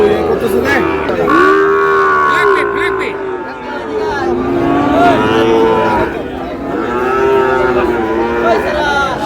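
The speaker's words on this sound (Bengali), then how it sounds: "এই যে গরুগুলো কিনছে।" Young cattle, including Sahiwal calves, at a livestock market in Chattogram, lowing in several long, loud, close moos one after another over market background noise.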